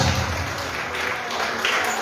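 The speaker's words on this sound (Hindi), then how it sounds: "एक और जोड़ी के लिए जोरदार तालियां होनी चाहिए।" Applause rises from a crowd at a Bhojpuri singer's engagement ceremony in Bodh Gaya, a dense, continuous wash of clapping sustained at an even level throughout, with faint voices mixed in.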